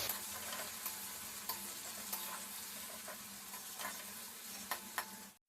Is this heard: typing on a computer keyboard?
no